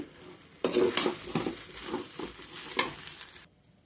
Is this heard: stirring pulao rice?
yes